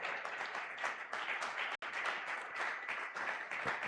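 A church congregation claps and applauds continuously during a Sunday worship service, a dense, steady wash of hand claps with one brief break.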